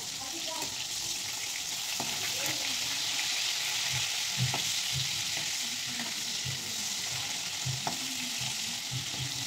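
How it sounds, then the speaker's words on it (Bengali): Prawns (galda chingri) lightly frying in hot oil in a home kitchen, a steady continuous sizzle with occasional stirring clicks and scrapes throughout. "তো চিংড়ি মাছ হালকা করে ভেজে নেব, মালাইকারি করার জন্য কড়া ভাজতে নেই"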